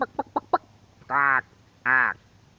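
A chicken clucking sound effect: four quick, short clucks followed by two longer, drawn-out squawks, close and clear with no talk over it.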